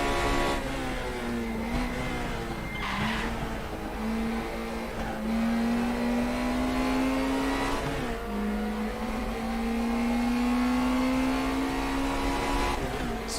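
Race car engine in RaceRoom Racing Experience holds a steady high whine that rises and falls with throttle, dipping briefly on lifts and climbing again through corners, loud and continuous with no talk.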